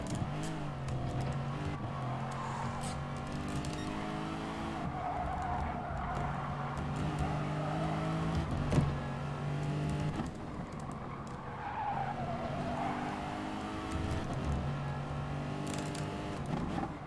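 Race cars in a Gran Turismo Sport daily race, including Subaru Imprezas and a Beetle, engines revving and whining through gear changes with tyre skids, a continuous loud drone rising and falling over many seconds.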